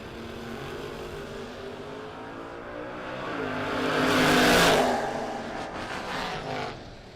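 A 1938 Dodge Roadster race car accelerating at a Mutt and Jeff race, a distant engine drone swelling to a loud pass midway and then fading.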